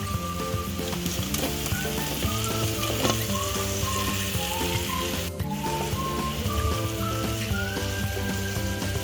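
Eggs fry in a spiced masala in a pan, giving a steady, dense sizzle and crackle throughout with faint stirring, close and continuous with no talking.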